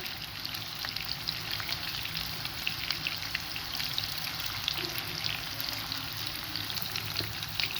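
Chicken gola kebabs frying over a low flame in a pan, an even, dense crackling sizzle throughout, close and steady with no talking.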